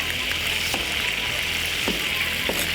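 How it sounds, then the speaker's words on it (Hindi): Onions frying in oil in a pan for a seekh kabab handi, giving a steady broadband sizzle with a few soft clinks from stirring, close and continuous. "उसी में ही आपने प्याज को फ्राई करना है"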